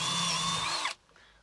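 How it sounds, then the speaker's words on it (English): A power drill whines loudly and steadily as it bores out the rivets holding copper fuse contact holders, then cuts off abruptly, leaving faint rattling and quiet afterward. "I can just take a drill, take those rivets out"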